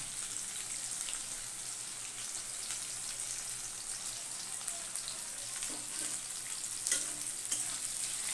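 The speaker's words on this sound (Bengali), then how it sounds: "পেঁয়াজটা ভাজা হয়ে আসলে" Chopped onions and a bay leaf fry in oil in a pan, giving a continuous soft crackling sizzle with scattered fine pops and no voices.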